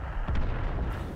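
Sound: tank cannon shot in video game World of Tanks

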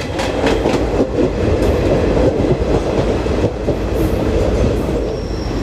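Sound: Garib Rath Express train halting at Dadar station

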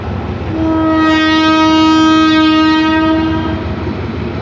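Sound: train locomotive horn

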